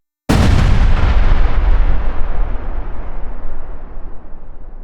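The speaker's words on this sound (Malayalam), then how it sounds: "ഇന്ത്യയിൽ ഒരു ന്യൂക്ലിയർ ബോംബ് പതിക്കുമ്പോൾ എന്ത് സംഭവിക്കും ഒറ്റ സ്ഫോടനം" A nuclear bomb explosion sound effect erupts suddenly after a brief silence into a loud, deep, rumbling blast that roars on and slowly decays over several seconds.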